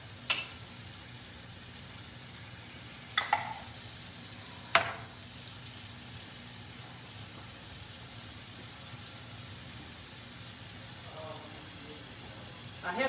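Minced garlic sizzling in melted butter in a skillet, a soft low steady sizzle heard close, broken by a few sharp utensil clicks and taps against the pan.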